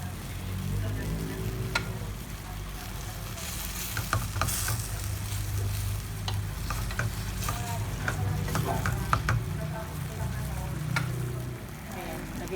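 Food stir-fried in a pan with a little oyster sauce, a continuous close sizzle with scraping spatula strokes and clicks throughout.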